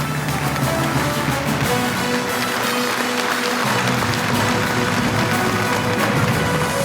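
Sustained audience applause at an award ceremony marking 30 years of an emergency hospital in Ufa, a dense, steady wash of clapping from a large hall holding even loudness throughout.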